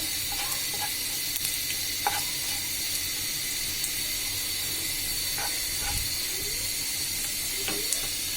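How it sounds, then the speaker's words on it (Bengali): Browned onions and radhuni spice frying in a pan for a prawn and taro dish, a continuous close hissing sizzle with occasional spatula scrapes and light taps as they are stirred, no talking. "আমার পেঁয়াজ অনেকটা লাল হয়ে গেছে, এবার আমি রাঁধুনিগুলো দিয়ে দিব। এটা কিছুক্ষণ নাড়াচাড়া করার পরে"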